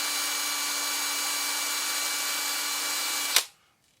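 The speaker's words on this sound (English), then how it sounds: "I'm taking a 3mm drill and I'm just running it through the holes." A small power drill with a 3mm bit whines steadily at high speed close by, running through holes in a vintage Nikko Brat RC car part, then stops abruptly with a brief click and fades to silence.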